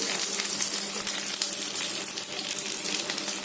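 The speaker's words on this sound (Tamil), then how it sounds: "இந்த மீன் பொரிக்கிறதுக்குன்னு தனியாக ஒரு கல் வச்சுக்கோங்க." Fish fries on a dedicated griddle stone for a Tamil-style fish fry, giving a steady, close, dense sizzle that holds evenly throughout with no talking.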